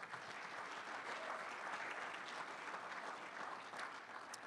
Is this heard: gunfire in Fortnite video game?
no